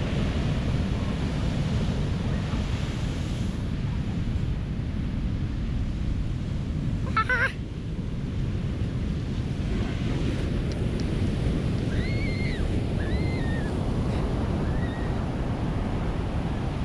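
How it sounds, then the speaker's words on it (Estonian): Massive ocean surf roars continuously as big waves crash nearby, heavy and loud with wind buffeting the microphone, and no voices. "Massiivsed lained."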